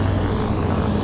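Propeller airplane with a radial engine during a run-up at Vancouver airport, a steady, moderately loud low drone with a constant hum throughout, heard alone.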